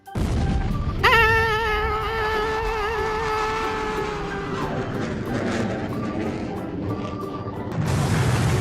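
Cartoon explosion effect from a Paw Patrol and Masha and the Bear cartoon: a sudden loud burst opens with a ringing, wavering tone that holds for several seconds before fading into a busy, noisy background.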